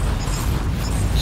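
A plasma cannon in the game Warhammer 40,000: Inquisitor, giving a loud, dense rumbling roar that stays continuous and harsh for about a second, like a sustained blast.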